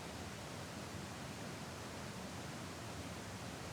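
A giant waterfall at McDowell Creek Park, about 25 feet away, roars as a steady, dense broadband wash that holds unchanged throughout, with no voices.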